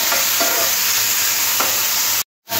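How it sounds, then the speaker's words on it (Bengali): Thinly sliced potatoes fry in hot oil on a tawa with a loud, dense, continuous sizzle and a couple of soft scrapes, cut by a sudden brief silence just before the end. "এবার তেলটাও গরম করে নিয়ে আলুগুলো দিয়ে দেবো।"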